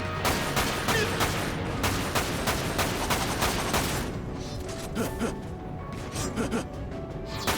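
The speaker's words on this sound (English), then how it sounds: "Shockwave of the rockets." Rocket shockwave explosions boom in Dirge of Cerberus combat, a rapid run of loud blasts and impacts in the first half, then scattered softer hits among ongoing game noise.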